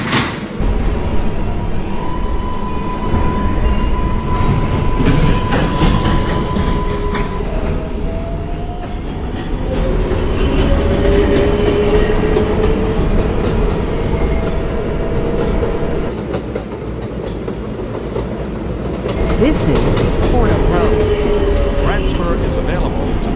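A New York City R142A 4 subway train rumbles and clatters steadily along the tracks in the Bronx, with rising and falling motor whines, loud and close from inside the car.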